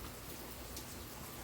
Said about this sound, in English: It started raining just like he said